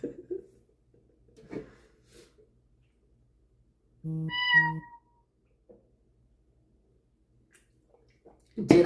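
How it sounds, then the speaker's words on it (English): A phone notification tone that meows like a cat. A single short synthetic meow is heard clearly in a quiet room, with faint scattered bumps and noises around it. "My phone meows."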